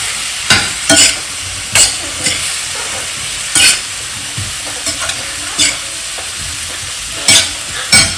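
Kantola (karatule) wild vegetable fries in a pan with a continuous hiss, while a spoon stirs it and strikes the pan in sharp, irregular clanks every second or so, close and fairly loud.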